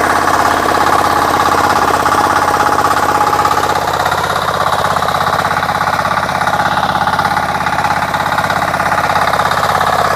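A Kama engine power tiller runs nearby with a loud, steady mid-pitched engine drone and rapid knocking vibration, holding constant throughout with no pause or speech.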